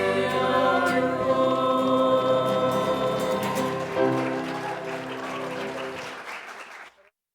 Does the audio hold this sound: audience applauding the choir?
yes